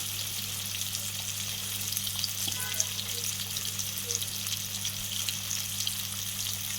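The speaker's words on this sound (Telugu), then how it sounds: "ఇది ఎర్రగా దోరగా వేగాలండి, కొంచెం కలర్ మారాలి" Rava (semolina) sizzles and fries steadily in a pan while being stirred for upma. A soft, continuous crackle runs throughout, with a low steady hum underneath and occasional light scrapes.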